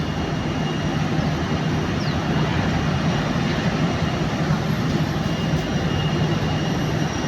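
An airplane at a large Japanese airport produces a sustained, loud engine roar, steady and broadband throughout, with no voices.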